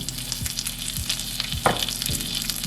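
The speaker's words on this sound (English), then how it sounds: "Frying pan is screaming hot. This is what's gonna make the skin crispy." Salmon fillet seasoned with garlic powder, onion powder and parsley flakes sizzles steadily in a screaming hot frying pan, a dense crackling hiss with occasional sharper pops and spatters, close up and without talk.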